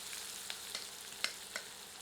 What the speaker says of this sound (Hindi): इसे मीडियम फ्लेम पर फ्राई करते हैं जब तक कि अनियन गोल्डन नहीं हो जाती।